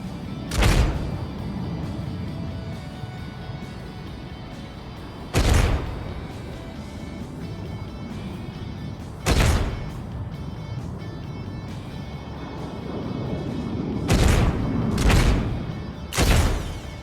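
Shotgun blasts from tank mechs in the video game Mech Arena, five heavy booming shots spaced several seconds apart over a steady rumbling engine-like drone, with no talk.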